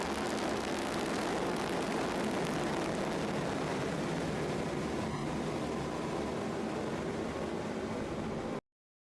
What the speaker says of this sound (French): Allumage Vulcain.